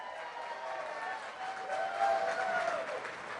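An audience at a school spring gala claps and cheers. A steady wash of applause and crowd noise builds slightly toward the middle, with whistles or shouts rising over it.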